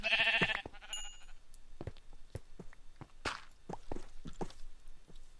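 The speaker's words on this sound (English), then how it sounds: "There's a ton of sheep everywhere." Sheep bleat in the Minecraft video game, a loud bleat at the start followed by scattered soft clicks and footstep-like taps.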